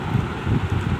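Heavy rain driven by strong wind, a low rumbling gusty roar in uneven bursts, close to the microphone and with no voices.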